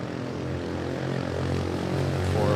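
At Manila airport a Singapore Airlines airliner moves along the ground with a close, steady engine drone carrying layered low hums and a whine that rises toward the end.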